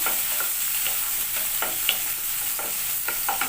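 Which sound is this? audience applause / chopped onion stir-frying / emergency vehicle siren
chopped onion stir-frying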